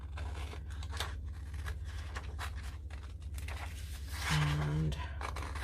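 Scissors snip through paper while a junk journal planner is made from a vintage book, giving soft, close cutting and rustling sounds under light background noise, with a brief tonal hum near the end.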